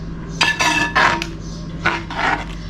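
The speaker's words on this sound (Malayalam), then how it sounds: "അപ്പം നമുക്ക് നന്നായിട്ട് ഡ്രൈ ആവുന്നവരെ ഇങ്ങനെ ഇളക്കി കൊടുക്കാം." Rice in milk being stirred in a pot until dry for Vishu Katta, with several distinct scraping strokes of a spoon against the pot in uneven rhythm, close, over a low background hum.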